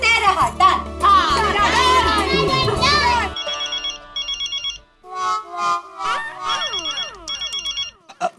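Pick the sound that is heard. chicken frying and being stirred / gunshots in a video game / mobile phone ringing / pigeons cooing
mobile phone ringing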